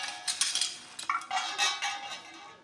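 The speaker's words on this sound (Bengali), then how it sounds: "এই দেখো দুটো খুন্তি নিয়েছি" Two metal spatulas, one small and one large, handled and knocked together, a series of bright clinks and scraping rattles at close range, no voices.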